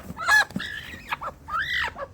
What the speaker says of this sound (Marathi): हे बघा कोंबडी